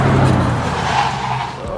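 A car's tires skid and squeal as it swings hard around a corner near a dead end, with engine noise underneath and a long scraping slide.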